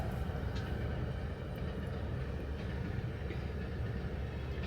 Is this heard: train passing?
yes